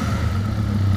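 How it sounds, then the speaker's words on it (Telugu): A Benelli 502C motorcycle with an inline two-cylinder engine and twin exhaust pipes joined into one sounds a steady, close, low droning hum for a moment, alone and unbroken. "నెక్స్ట్ ఈ బైక్ లో ఎగ్జాస్ట్ డిజైన్ చూడటానికి ఎలా అయితే ఉంది, కామెంట్ చేయండి ఎలా ఉందో సౌండ్ అనేది."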